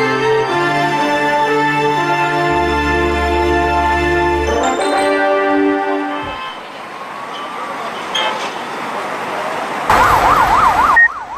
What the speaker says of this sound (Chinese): 救护车，快点，救护车